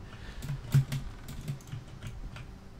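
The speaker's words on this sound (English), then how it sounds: "all the spacebar noises I'm making" Computer keyboard clicks while playing the murder-mystery first-person game Obra Dinn, soft, scattered taps over a low background hum, with one slightly heavier press near the start.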